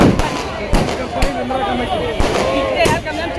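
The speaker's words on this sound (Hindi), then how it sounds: "ये जो दूसरे संदल आए ना, वो गली से उन लोगों के पटाखे हैं" Firecrackers go off in a street during a crowded dargah Urs sandal procession, several sharp bangs at irregular intervals over a noisy crowd, with voices talking throughout.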